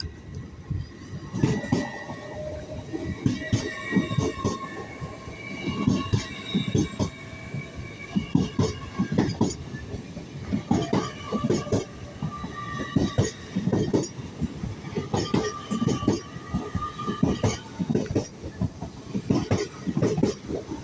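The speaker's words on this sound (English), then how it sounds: "An LNER service from Inverness to London King's Cross." An LNER passenger service from Inverness to London King's Cross rolls through Darlington station, with a rhythmic clatter of wheels over rail joints, metallic squeals and a loud, continuous rumble for about twenty seconds.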